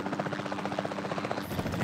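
A helicopter in the video game Jurassic World Evolution 2 gives a loud, close, steady rotor chop with rapid rhythmic thumping and a buzzing turbine whine throughout.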